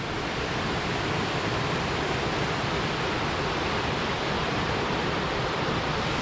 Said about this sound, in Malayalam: ഇതുപോലെ ചെറിയ ചെറിയ വെള്ളച്ചാട്ടങ്ങളാട്ടോ